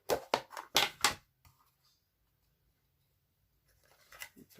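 A handheld paper punch cuts through stamped cardstock for a card, giving several sharp, close crunching clicks in quick succession, then near silence with faint handling noise.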